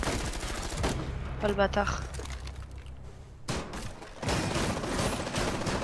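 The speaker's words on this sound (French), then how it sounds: "je m'en fous des tirs à côté de moi" Rainbow Six Siege gunshots crack out in rapid automatic bursts and single shots, loud and close, with a player speaking briefly in French between them.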